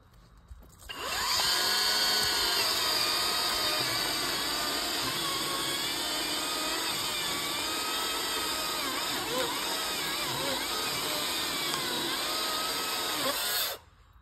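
A Kress battery chainsaw cuts steadily through the trunk of a large felled tree. Its loud, even whine starts abruptly, holds for about twelve seconds, then cuts off, with no talking over it.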